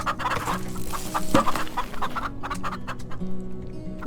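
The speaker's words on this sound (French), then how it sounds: "Ah, ça c'est les poules." Chickens in the farming video game Farm Together cluck repeatedly in short, close bursts over a soft background of game ambience, with no talking.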